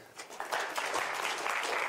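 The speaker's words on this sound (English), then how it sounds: "Another round of applause." An audience at a games AI talk gives a short round of applause for a volunteer, a moderately faint patter of clapping from a small crowd that swells after a quiet start.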